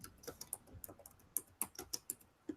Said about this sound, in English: Maybe it's just typing.